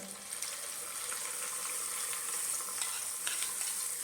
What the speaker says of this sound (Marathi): आता आपण ही गरम गरम फोडणी चटणीवरती घालायची आहे